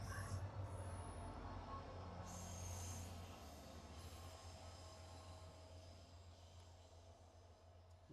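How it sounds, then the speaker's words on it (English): Passing train heard near an outdoor fireside gathering, a faint steady low rumble with occasional high wheel squeals drifting by, quiet and distant in the background. "So we'll let this train go by again"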